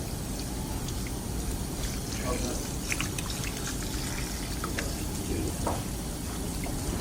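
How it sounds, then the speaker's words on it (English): An Alfonsino fish is rinsed clean under running tap water, a steady, close stream splashing and trickling over it the whole time. "And just really rinse this out really well."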